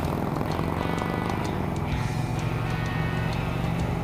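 An Indian motorcycle engine running at steady revs on a ride, with a droning rumble and a faint ticking from a slightly leaky exhaust, no voices.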